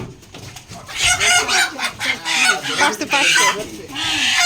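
A native village hen clucking loudly and close by in a rural home, with a run of agitated squawks and cackles that carries through the whole clip.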